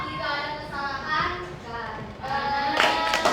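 Classroom of seventh-grade pupils clapping for a group that has just finished a presentation, a loose mixed patter of many hands mingled with children's chatter, rising again toward the end.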